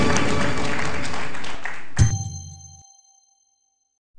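Quiz-show applause from a studio audience, a steady close clatter of clapping for about two seconds, cut off by a bright chime that rings and fades into silence.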